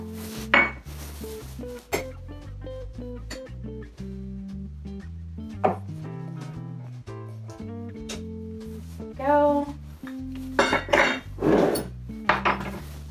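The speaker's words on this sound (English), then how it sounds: "we use a scoop and level method to measure out our dry ingredients" Flour and powdered sugar being scooped and leveled for shortbread cookie dough, with repeated clinks and knocks of metal measuring tools against bowls and containers, a close, busy run of taps and scrapes.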